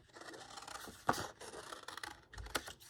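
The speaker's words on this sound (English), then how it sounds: "You don't turn the scissors, you turn the paper." Scissors snip paper in a quiet room during a lion-head paper craft, with a few faint scraping cuts and two sharper snips standing out.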